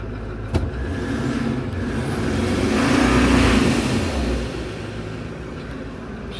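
A Ford 6.7 diesel pickup engine with accessories disconnected revs up from idle, swelling to a loud peak around the middle and settling back, heard up close with no talking.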